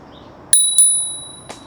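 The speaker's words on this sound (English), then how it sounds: "The Engwe, however, only has a bell." Bicycle bell on an Engwe L20 e-bike, rung twice in quick succession with bright metallic rings that decay, followed by a fainter third tap, loud and close.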